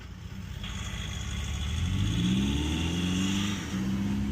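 A Hyundai Ioniq 5 N accelerating with its engine boost sound engaged, a steady synthetic engine-like tone rising in pitch over road and cabin rumble, heard from inside the car.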